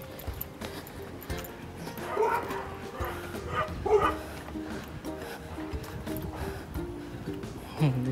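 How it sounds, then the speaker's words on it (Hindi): Dogs barking in a hillside village in Himachal Pradesh, a few scattered barks and yips rising out of steady outdoor background noise, moderately distant and not very loud. "यहाँ पर कुत्ते हैं भाई, अटैक भी हो सकता है यहाँ पर"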